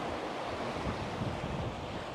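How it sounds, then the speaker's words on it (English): Strong wind roars and buffets the microphone over a steady wash of surf at the beach at Sully Island, South Wales, loud and continuous with no voices. "It's really windy today"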